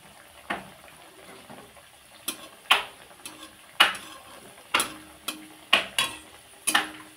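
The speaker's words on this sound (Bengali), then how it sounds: "এইভাবে আস্তে আস্তে তেলের মধ্যে দিয়ে দেব।" Potato rolls set into hot oil with a soft, low background sizzle, broken by sharp periodic clicks and taps of a utensil against the pan about every half second to second.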